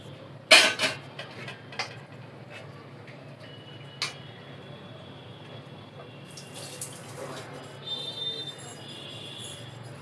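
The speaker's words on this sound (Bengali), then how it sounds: "এবার এই ডালটাকে এর মধ্যে ঢেলে দিচ্ছি" Sour dal poured into a pan of heated mustard oil: a sharp clink at the start, then a quiet, soft liquid pour and faint sizzle that rise slightly toward the end.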